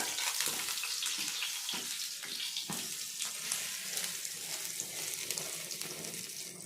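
Dabbu rotte flatbread frying in a pan, giving a continuous hissing sizzle with faint crackles, steady and close, with no one talking.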